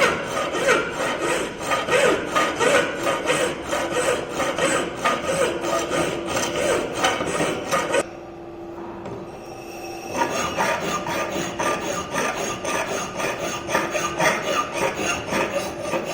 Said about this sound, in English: with the help of this flat file, first you have to do the filing